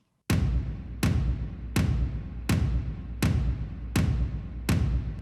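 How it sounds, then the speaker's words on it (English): A deep tom drum sample hits seven times at an even, slow pace, each boomy strike trailing into a long reverberant tail. "here's the sample called Big Dark Toms stereo sample"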